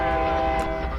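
A locomotive horn in the Train Simulator 2021 game sounds loud and sustained on the Tehachapi Pass route, a rich steady chord lasting the whole second with faint rail noise beneath.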